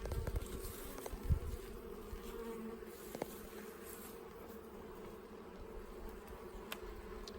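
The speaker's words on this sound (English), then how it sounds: "I'm gonna put this so you can hear the hive." A close, steady drone of many honeybees buzzing inside a hive, a low continuous hum with occasional faint knocks.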